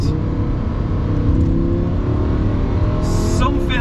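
A Lamborghini V10, the same engine used in the Audi R8 V10, revs hard close by, its loud engine note climbing steadily in pitch throughout a short burst.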